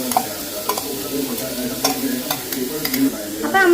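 Mustard seeds and dried red chilies splutter in hot coconut oil for carrot thoran, with sharp scattered pops and crackles over a close, steady sizzle and a louder burst at the end.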